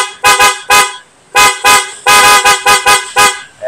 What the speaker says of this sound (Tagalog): Tapos yung loud horn niya,